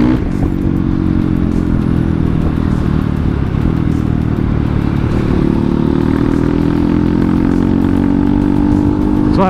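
A Kawasaki KLX motorcycle with a 200cc bore-up engine and low compression idles and revs loudly up close for the whole stretch, giving a steady throbbing rumble with some mechanical clatter.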